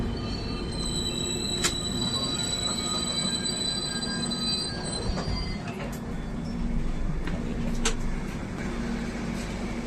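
Train pulling into Nileshwaram railway station in Kerala, a steady rumble of rolling wagons with brief high metallic wheel squeals cutting through now and then, close and continuous throughout.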